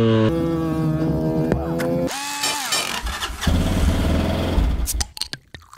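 A vintage Simson SR50 snowmobile engine runs up on a mountain among other old snowmobiles. It gives a close, buzzing tone that revs up, wavers through throttle changes and then cuts off sharply.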